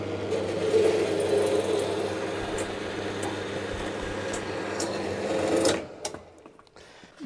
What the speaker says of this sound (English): It all starts at the horizontal bandsaw.